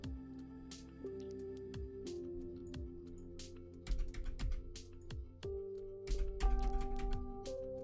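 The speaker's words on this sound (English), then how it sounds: "You're hearing the keyboard, right?" Keys clatter on a computer keyboard in quick, irregular clicks during game development work, fairly faint, over steady tonal background sounds.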